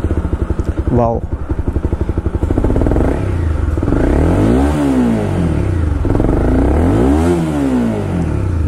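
Royal Enfield Continental GT650 twin with an Akrapovic custom exhaust: a loud, close idle burble that rises into repeated revs, swelling and falling twice in sweeping waves, while a person briefly exclaims over it.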